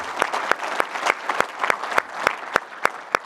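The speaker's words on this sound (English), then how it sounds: "And so a big round of applause for Brian Leonard, Jocelyn Rosima, and Kelly Sturl." Audience applause fills a conference session hall, a dense, even wash of clapping from many hands punctuated by a few sharp, louder claps close by, steady throughout.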